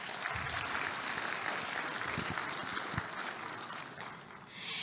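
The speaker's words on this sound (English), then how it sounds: "Can we give him a big round of applause" Audience at a food-systems leadership forum applauding a former Prime Minister of Ethiopia, a sustained, moderately distant round of clapping that fades toward the end.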